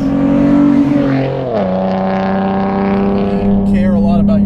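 A modified 2007 Acura TL Type S engine revs hard and close, its pitch climbing and settling into a strong sustained harmonic tone, with a second rise near the end.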